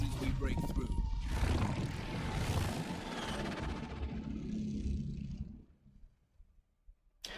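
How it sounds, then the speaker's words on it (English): A plane-helicopter hybrid aircraft in the game Dune Awakening roars close by in a dense, rumbling whoosh, then fades out sharply toward the end. "that is such a cool design for a plane slash helicopter"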